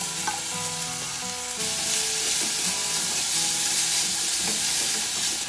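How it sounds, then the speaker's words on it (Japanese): Vegetables stir-fry in a small amount of oil in a pot, a steady, close sizzle that grows louder partway through, with faint stirring scrapes and no voices. "まずは油を引いて野菜を炒めていきます。"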